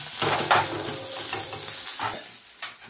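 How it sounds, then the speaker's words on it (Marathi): Onion frying in a pan until it turns chocolate brown, with a soft continuous sizzle and occasional scrapes of a spoon stirring it, close and fairly quiet. "हा कांदा आपण छान चॉकलेटी रंग येईपर्यंत आपल्याला हा कांदा तळून घ्यायचा."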